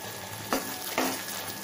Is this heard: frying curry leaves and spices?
yes